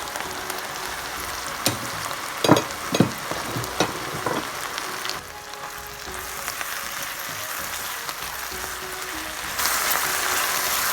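Vegetables for Chinese fried rice sauté in a hot pan with steady sizzling, broken by several sharp clacks of a spatula scraping and tossing in the first few seconds, then a softer, even fry that swells slightly louder near the end.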